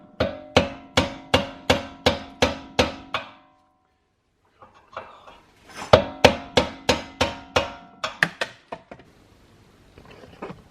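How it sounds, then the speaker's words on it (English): Steel hammer blows drive a punch against a rear suspension bolt on a VW R32, about seven sharp ringing metallic strikes in steady rhythm, a pause, then another fast run of close, loud hits, with no talk. "Just gotta punch this bolt out now."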